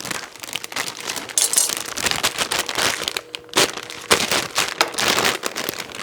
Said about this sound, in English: we're going to take them out of the bag